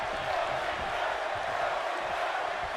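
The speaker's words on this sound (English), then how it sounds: "You hear the crowd here tonight." A steady, loud roar of an arena crowd cheering at a wrestling match in the WWE 2K22 video game, a constant wash of noise with no clear voices.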